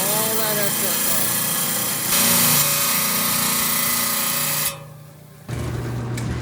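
A handheld power tool trims excess stone from a rock cabochon with a loud, steady high-pitched whine and grinding, briefly easing off near the end before resuming.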